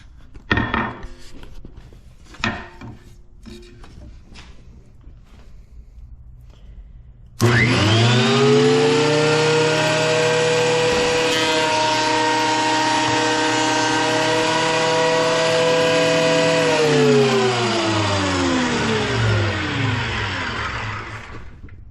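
Ryobi electric planer switched on and run through a wooden board, a loud sustained whining roar for about ten seconds that winds down at the end, preceded by a few handling knocks.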